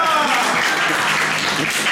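Brief, dense applause from a church television audience, a steady wash of clapping filling the two seconds with a voice faintly present underneath.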